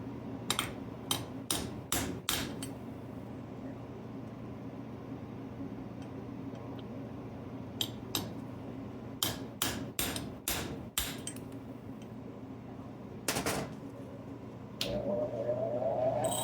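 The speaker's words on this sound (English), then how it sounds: "We'll use a little longer chisel" A hammer strikes a chisel while a 3.0L or 3.6L GM starter is rebuilt, with sharp metallic blows in quick clusters separated by pauses, close and loud over a steady low hum.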